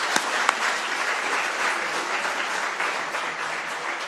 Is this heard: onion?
no